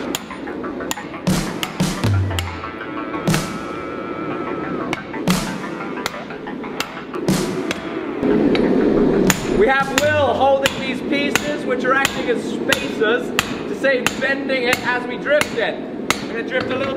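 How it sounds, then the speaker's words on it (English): Sharp metallic hammer blows on a hammer eye punch ring out one after another at an uneven pace, punching a hole through hot steel, close and loud, sometimes in quick clusters, with a low hum beneath. "we're gonna take this hammer eye punch and we are gonna punch open the hole."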